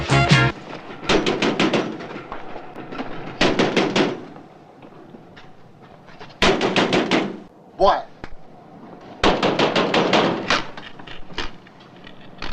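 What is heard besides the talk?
banging on a door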